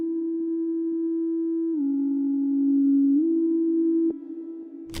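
An R&B synth bass with added distortion holds a sustained, buzzing low note, dips to a slightly lower pitch midway and then returns, before a click and a brief noisy tail at the end.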